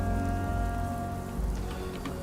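Steady rain patters continuously on surfaces in Aquila in the video game Starfield, heard close and even under a soft tonal music bed.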